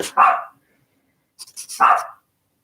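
A pit bull barks twice indoors, close and loud, with short sharp barks separated by a pause and a few faint yips before the second.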